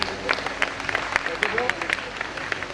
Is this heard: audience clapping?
yes